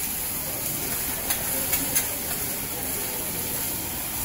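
Steam hisses steadily from a train's smoke pipe, a constant airy rush with a few faint ticks over it, heard alone.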